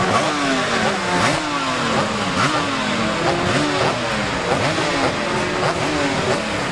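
A 250 Yamaha racing motorcycle ridden by Michael Sweeney in the Classic TT senior race roars past at close range, its two-stroke engine loud and climbing through repeated gear changes, with no talk.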